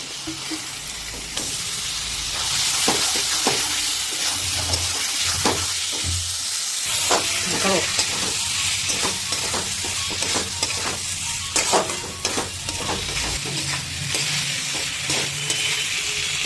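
Chicken pieces fry in oil with ginger and garlic for an achari chicken pickle, a constant loud sizzle broken by repeated scraping and clattering stirring strokes close by, with no one speaking.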